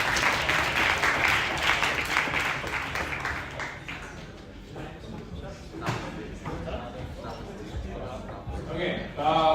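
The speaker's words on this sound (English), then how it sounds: "definitely deserves applause as well" Enthusiastic audience applause for a finalist at a livestreamed integration competition, a loud clapping burst that gradually tapers into scattered claps, with voices and cheering mixed in.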